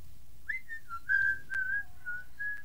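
A person whistles a short, wavering tune of sliding and held notes, clear and close with a little breathy noise between phrases.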